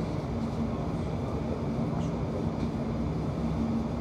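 A London Overground train on the Goblin line runs between stations, its carriage interior filled with a steady low rumble and faint tonal motor hum throughout, with no voices.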